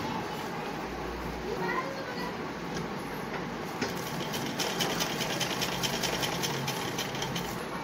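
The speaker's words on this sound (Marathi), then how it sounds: "चला तर मग शिवून घेऊया." A sewing machine runs steadily as it stitches cut fabric pieces together for a homemade face mask, a continuous mechanical whir with light ticking close by over a noisy room background.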